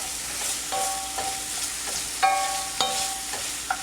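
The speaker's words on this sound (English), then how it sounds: "keep stirring our vegetables and our chicken broth over here while our andouille sausage is browning" Vegetables and chicken broth stirred in a pot while andouille sausage browns for gumbo, a steady sizzle with intermittent spoon scrapes and metallic clinks, close.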